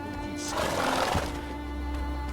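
Roach, Geralt's horse in The Witcher, gives a single loud, close whinny with a rising then falling quaver over steady outdoor ambience.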